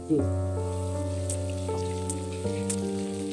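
Garlic ginger paste sizzles with browning onions in a pan for a Pakistani potato and eggplant curry, a steady crackling hiss running throughout alongside a sustained tonal hum.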